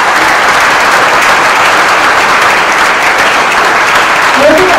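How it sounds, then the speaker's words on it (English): Loud, dense audience applause for elementary school children at a Christmas concert, a continuous close roar of many hands clapping that holds steady throughout. "can you please give them a round of applause?"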